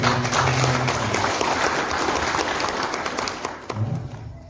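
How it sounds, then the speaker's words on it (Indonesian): Audience applause at a Tunas Putih pencak silat gathering with IPSI in Loceret, Nganjuk, a dense steady wash of clapping lasting several seconds before tapering off near the end. "Coba kita tepuk tangan dulu"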